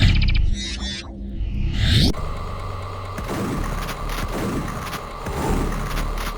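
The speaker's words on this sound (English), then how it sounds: "3D2, The Killing Grounds. 3D double barrel shotgun." Double barrel shotgun fire in the first-person shooter Alien Breed 3D2: The Killing Grounds, with a sharp blast near two seconds followed by a dense stretch of mechanical thumps and booms that stays loud to the end.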